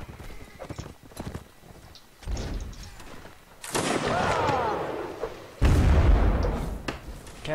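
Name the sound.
cannon fire in the video game Mount and Blade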